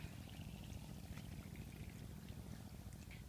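Water is poured steadily onto plants and soil in a garden on a very hot day, making a continuous soft splashing that holds evenly throughout at low volume, with no talk.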